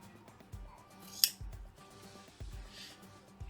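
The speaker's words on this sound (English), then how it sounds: "you can trim off the excess placket at the top of the waist here" Scissors trimming excess placket fabric at the top of a waistband, a few close, quiet snips with a sharper metallic clip near the start and soft handling rustles between cuts.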